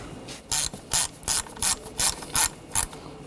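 Ratchet wrench tightening valve cover bolts on a 2013-2019 Ford Escape 2.0L four-cylinder, a close, crisp series of about eight evenly spaced ratcheting clicks in a steady back-and-forth rhythm.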